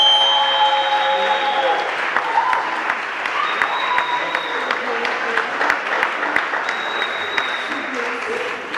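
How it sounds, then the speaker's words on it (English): Applause from the audience at a university debate session: many hands clapping in a steady, fairly close patter with a few sharper individual claps standing out, lasting throughout. "Please give him a round of applause."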